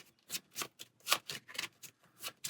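A deck of cards from the Star Wars: Outer Rim board game is shuffled by hand, with a quick run of crisp riffling bursts close by, separated by brief gaps.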